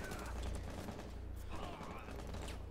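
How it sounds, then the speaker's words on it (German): Rapid bursts of gunfire in the tactical shooter game Rainbow Six Siege, dense and continuous with rattling mechanical clatter throughout, fairly loud and close. "Na, er hat dann auf mich geschossen."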